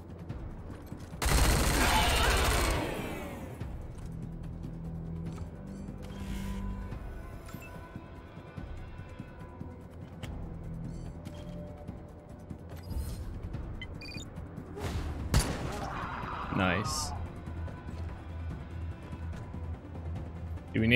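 Gunfire from the Wasteland 3 video game: a loud, dense burst of shots lasting about a second, then a quieter low-humming game ambience with scattered impacts and a second sharp hit later.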